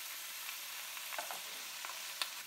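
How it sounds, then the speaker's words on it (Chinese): Frozen beef pieces pan-fry for sukiyaki over high heat, giving a steady, fairly quiet sizzle with scattered crackles and pops and an occasional scrape, and no talking. "当然略微要煎的久一点"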